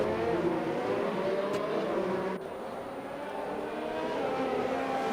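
Mercedes AMG GTS race car engine in a racing video game, a steady droning whine with layered harmonics, moderately loud and close, easing slightly partway through as the pitch shifts.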